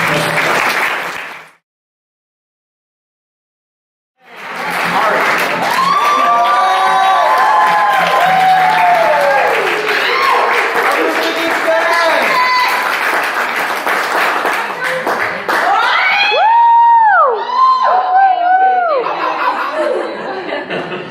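A church congregation claps at length in a loud, sustained wash of applause, mixed with cheering, laughter and chatter. A short silent gap comes before it.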